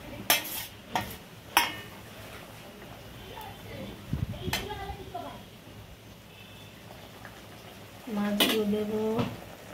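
Fish clattering into a pan of bubbling mustard-poppy seed paste for a Bengali bata fish curry, with sharp utensil knocks against the pan, soft stirring and a brief sizzle, and a voice speaking between the knocks.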